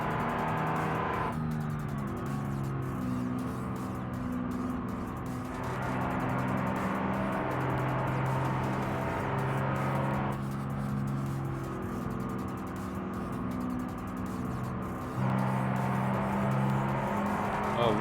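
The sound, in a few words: cars accelerating hard on highway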